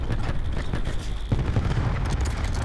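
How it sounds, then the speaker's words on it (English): Cluster grenades go off in a video game on the map The Strip: a quick string of rumbling, muffled booms bunched in the middle of a noisy battle bed. "Incoming cluster grenade."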